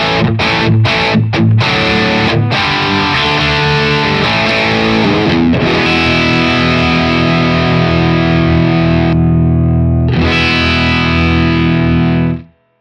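An electric guitar played through two stacked overdrive pedals, with a few quick chopped chords followed by long, loud distorted sustained chords that ring out before cutting off abruptly.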